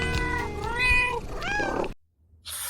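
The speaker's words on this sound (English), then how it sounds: "wait for it, it's the cat's meow" A cat gives several loud, close, wavering meows in quick succession, rising and falling in pitch, then a sudden cut to near silence and a burst of hiss-like noise.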